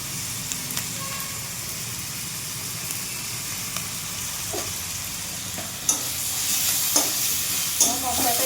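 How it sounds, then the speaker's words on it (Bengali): A masala of salt, coriander powder and chilli fries in a pan for a fish head curry, giving a steady close sizzle with a few light scrapes and clicks from stirring. "মশলাটা একটু ভাজবো"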